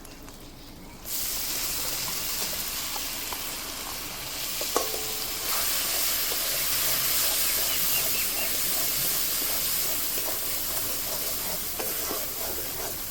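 Green peas hit hot oil spiced with turmeric and chili powder for a kachori filling, setting off a loud, steady sizzle and hiss that continues from just after the start to the end, with occasional stirring and no talk.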